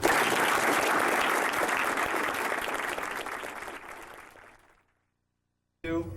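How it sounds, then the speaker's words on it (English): Audience applause after a karate technique demonstration, a dense, loud wash of clapping that holds steady for about four seconds, fades out into silence, then a fresh burst starts near the end. "Good round of applause."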